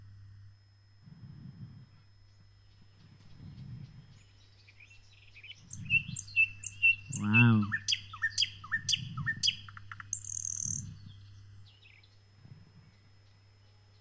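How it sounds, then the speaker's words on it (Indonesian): Recorded birdsong plays over a church sound system, bright chirps and trills rising in the middle then thinning out, with a low hum underneath and a brief voice of amazement. "saudara mau dengar suara burung?"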